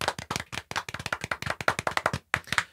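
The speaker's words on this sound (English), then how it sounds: "A little round of applause for these patrons" A few people clap for podcast patrons, a close, quick run of distinct hand claps in an uneven rhythm lasting a couple of seconds.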